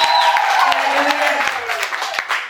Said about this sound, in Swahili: Wapi makofi, wapi makofi, wapi makofi.